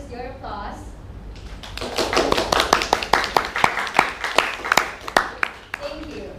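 A debate audience practises its applause: scattered, uneven hand claps grow into a moderate spatter of individual slaps, with murmuring voices at the start and end.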